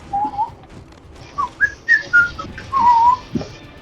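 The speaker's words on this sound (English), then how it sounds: "we have ourselves a whistling Scotty" Scotty, a pet bird, whistles indoors in a series of short, clear, tuneful notes and slides, ending with a longer sustained phrase. The whistling is fairly close, with quiet pauses between phrases.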